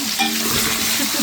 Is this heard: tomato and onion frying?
yes